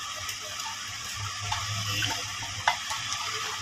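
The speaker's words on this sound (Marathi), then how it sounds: "आता ह्यामध्ये गरम केलेलं पाणी थोडंसं आपल्याला पाहिजे तेवढं टाकायचं" Heated water pours into cooked toor dal in a home kitchen, a soft, close gush and trickle lasting a few seconds with a couple of small splashes and no talking.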